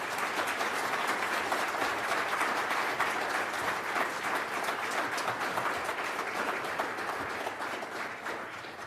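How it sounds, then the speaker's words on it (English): A breakfast forum audience applauds two Multnomah County district attorney candidates after their debate, a dense, steady roar of many hands clapping that holds loud throughout and eases slightly toward the end. "Please give both candidates a round of applause."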